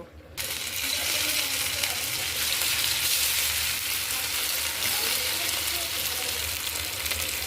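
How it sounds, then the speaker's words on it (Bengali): Chicken pieces for chilli chicken fry in hot oil in a frying pan, giving a loud, steady sizzle that starts abruptly and runs on without a break, with no voices. "এবার ফ্রাইং প্যানে তেল গরম করে মাংসগুলো ছেড়ে দেব।"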